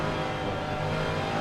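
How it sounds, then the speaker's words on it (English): A race car engine hums in a racing video game, a Ford on the back straight at the Glen, a steady loud drone held at an even pitch for a brief stretch with no talk. "listen to the engine real quick."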